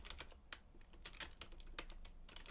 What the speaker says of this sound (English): I keep hitting the wrong keys because I have laptop and a computer next to me now, and there's 2 sets of keyboards